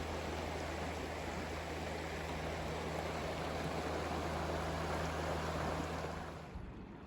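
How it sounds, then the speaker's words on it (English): A river flowing in forested wild country, heard as a steady broadband rush of water that stays even and loud, then eases off slightly at the very end. No voices. "Beautiful river."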